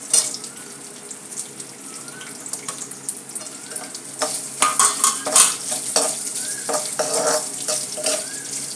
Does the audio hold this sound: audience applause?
no